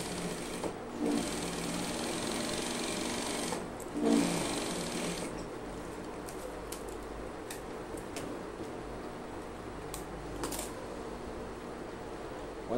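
A sewing machine runs steadily, stitching a seam on a trouser leg being adjusted, with a continuous mechanical whir broken by a few short pauses and clicks.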